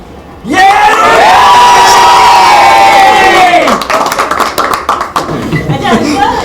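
A loud crowd of team members at a Chandigarh Cubs media event shouts and cheers together in a sustained roar lasting about three seconds, then breaks into scattered whoops, claps and chatter.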